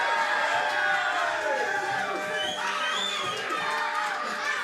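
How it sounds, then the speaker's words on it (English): A crowd at the Grapple Mania 19 wrestling event cheers and shouts after a six-minute match, a lively wash of many voices with whoops and children's yells, fairly close. "The crowd loves it so much."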